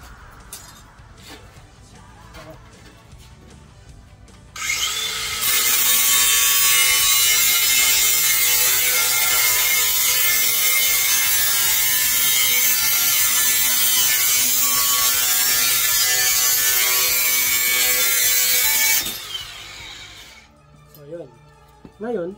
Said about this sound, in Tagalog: Laging papunta sa'yo ang ikot ng grinder.